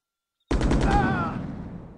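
Rifle gunfire in the video game Delta Force erupts suddenly after a half second of silence: a quick burst of several sharp shots that rings out into a fading tail, with a brief voice partly overlapping.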